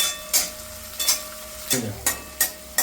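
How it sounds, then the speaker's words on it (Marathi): Ginger garlic paste fries in a pan for matki amti, cooking until the raw smell goes. Repeated bursts of sizzling scrapes come roughly every half second from stirring, close and loud, with no talk. "लसूण पेस्ट अशी चांगली भाजून घ्यायची"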